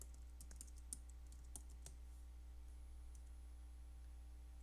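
Quiet bursts of clicky keystrokes on a computer keyboard, irregular and close, over a steady low electrical hum, then tapering off into near silence.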